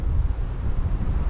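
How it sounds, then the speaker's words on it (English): Strong wind at about 1,000 feet elevation buffets close and loud, a low, gusty rumble that swells and dips in short waves throughout, with no talking. "it's windy up here"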